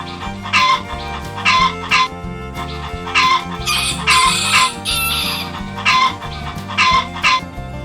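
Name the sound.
toy rooster crowing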